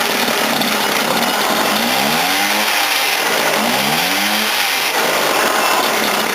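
A Peugeot 103 SPX moped's small two-stroke engine runs after a clutch replacement, buzzing loudly up close and revving twice in rising-and-falling sweeps before settling back to idle.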